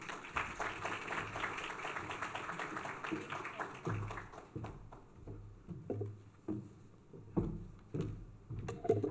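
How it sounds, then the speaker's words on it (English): An audience at a TIE Toronto event gives a round of applause: a crowd claps densely for about four seconds, then the clapping thins and fades, leaving sparse claps and a few voices. "Upasana, let's give a round of applause"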